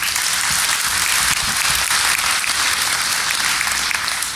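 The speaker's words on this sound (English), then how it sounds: "you should all give yourself a round of applause," Dense, steady applause from a packed conference room audience at DEF CON 21, a continuous wash of many hands clapping at full volume with no voices.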